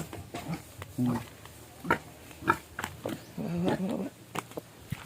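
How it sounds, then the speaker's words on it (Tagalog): A pregnant pig grunts in short, repeated nasal bursts close by, mixed with people talking. "yang baboy ni Janjan buros na ni siya guys."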